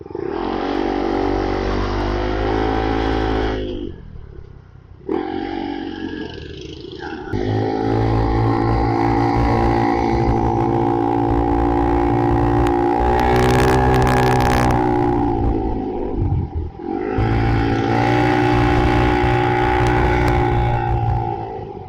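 Busy road traffic with many vehicles passing close by, loud engine roar and revving that swells and drops, with brief gaps and sharp bursts as vehicles go past.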